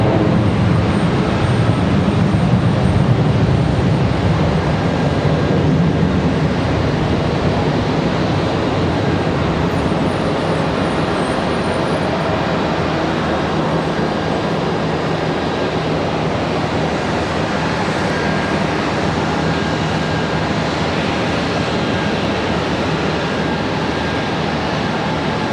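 Airbus A321 airliners at Charlotte Douglas International, one arriving and one departing, a continuous loud jet roar that rumbles low at first and then settles into a sustained wash of engine noise over a long stretch.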